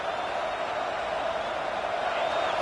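Stadium crowd roar in the College Football 26 video game during a Michigan vs. Texas matchup, a steady, dense wash of noise that holds throughout with no distinct voices standing out.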